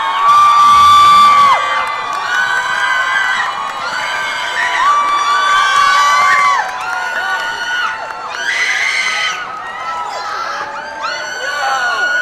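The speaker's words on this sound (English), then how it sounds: "Big round of applause." A large crowd of fans at a Jang Hyuk appearance in OC cheers, whoops and shrieks loudly, with high excited voices and clapping rising and falling throughout.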